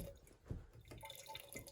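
Water drips from a low-pressure tap, a single close drip standing out over a faint trickle and quiet background.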